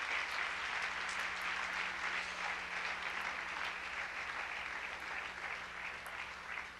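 A church congregation claps together in sustained, even applause that fades slightly toward the end, with a faint steady hum beneath it.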